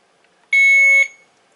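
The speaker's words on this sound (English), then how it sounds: "That beeping is the next test. It's asking if I can hear that beep" A single loud electronic test beep from a Hospira Alaris infusion pump, a clear steady tone lasting about half a second in an otherwise quiet room.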